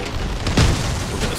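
A single muffled boom bursts out from a vehicle self-destructing in the online vehicle combat game Crossout, rising briefly above a steady rumbling background.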